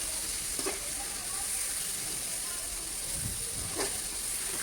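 Cluster beans fry in a pan, giving a steady broadband hiss and sizzle throughout with a few brief scraping stirs; no speech is heard.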